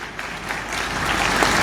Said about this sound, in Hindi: और तालियां थोड़ी जोरदार और थोड़ी लगातार बजती रहनी चाहिए।